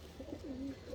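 A racing pigeon coos close by, a short low throaty warble rising and falling once over quiet background, with a faint soft note just before it.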